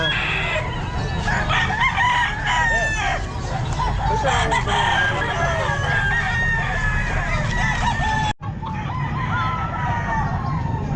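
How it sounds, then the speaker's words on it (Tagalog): Several roosters crow over one another amid steady clucking from a flock of white chickens at a pet market, a busy, continuous farmyard chorus. "Puro white ang mga manok ni Boss Joey"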